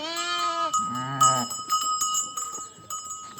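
Sheep and lambs just back from grazing on a farm bleat loudly and close by: two long, drawn-out calls, then a ringing bell over shuffling flock noise.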